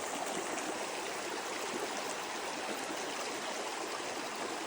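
A creek near an abandoned mine site in a Utah ghost town flows with a steady, broad rushing and gurgling wash, continuous and fairly near, with no talk.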